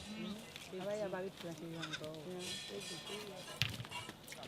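A goat bleats in a series of wavering, pitched cries through most of the stretch, fairly close, with some background rustle and a sharp knock near the end.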